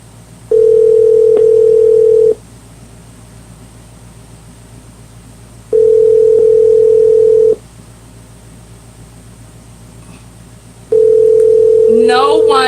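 Unanswered telephone call during a prank call: a steady ringback tone sounds three times in long, evenly spaced pulses over a faint background hiss.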